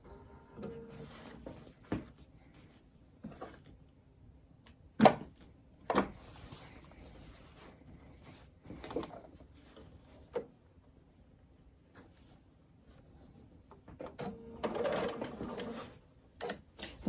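A sewing machine back-stitches fabric for quilt bows, giving faint, intermittent short bursts of stitching along with occasional clicks and soft handling knocks in a quiet room.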